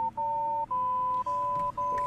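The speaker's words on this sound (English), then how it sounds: "Put in a coin and dial the number in the napkin." Touch-tone payphone keypad beeps, four steady dual-tone presses of nearly even length with short gaps between them, clear and alone with no talking.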